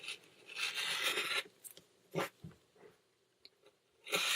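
A rotary cutter trimming the edge of a quilt block along a ruler, giving short dry rasping strokes in separate bursts with quiet gaps between them.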